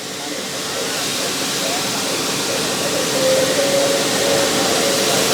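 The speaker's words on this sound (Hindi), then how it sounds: "ये पानी के साथ में कटिंग होता है और इसको बोलते हैं ड्राइंग यूनिट, डीवाटरिंग यूनिट बोलते हैं इसे।" Cut plastic flakes rush with water through a dewatering unit at a plastic recycling plant, a loud steady wash of hiss and churning with faint machine tones running underneath.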